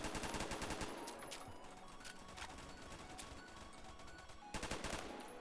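Sustained automatic SCAR-H rifle fire in the online shooter Phantom Forces, loud rapid bursts rattling continuously, with a brief lull before another heavy burst near the end.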